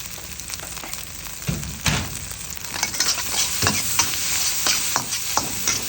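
Spring onions stir-fried in a pan for minced pork rice: a steady hiss of frying broken by scraping stir strokes and clatters of the utensil against the pan, close and without talk.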